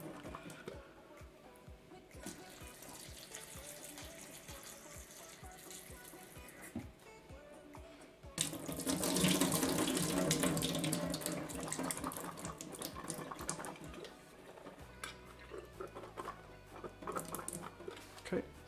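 Canned chickpeas are drained and rinsed under a running sink faucet, with pattering water and a metallic clatter that swells into a loud gush midway, while a person talks over it.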